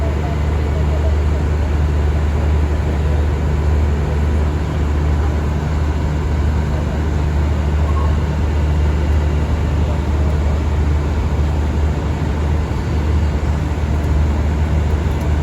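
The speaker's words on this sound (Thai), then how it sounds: "ขณะนี้ขบวน 721 ก็ เข้าสู่สถานีรถไฟสุราษฎร์ธานีนะครับ" Train 721 pulls into Surat Thani railway station at night, a steady, loud diesel rumble with a deep low hum that holds evenly throughout without any distinct horn or clank.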